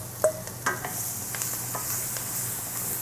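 Carrots and celery sautéing in a pan, a soft steady sizzle under a couple of sharp utensil knocks and clanks near the start, then quieter stirring.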